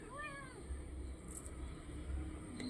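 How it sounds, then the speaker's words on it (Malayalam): A small kitten fussing for candy lets out a few quick, rising meows right at the start, faint and close, over a low background hum. "കുഞ്ഞു പൂച്ചയ്ക്ക് മുട്ടായി വേണമെന്ന് പറഞ്ഞ് വഴക്കുണ്ടാക്കുവാണ്"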